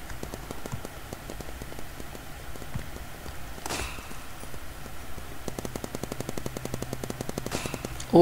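Rapid bursts of P90 gunfire in a Roblox paintball game, short trains of sharp repeated shots broken by brief pauses, fairly quiet and steady throughout.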